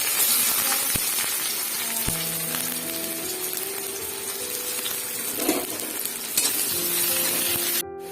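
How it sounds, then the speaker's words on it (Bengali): Crushed garlic cloves and chopped onion sizzling in hot oil, a dense close frying hiss with occasional utensil clicks and scrapes, steady throughout with no talking. "পেঁয়াজ আর রসুনটা ভাজা ভাজা হয়ে এসছে।"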